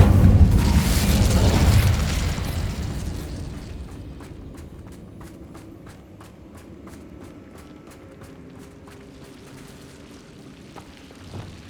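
A loud burst of fire from the Incendio spell in Hogwarts Legacy, a booming whoosh that fades after about two seconds, followed by quieter ambience and faint footsteps.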